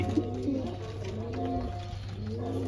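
Soft, repeated pigeon coos close by, low and throaty, over a steady background hum with no talking.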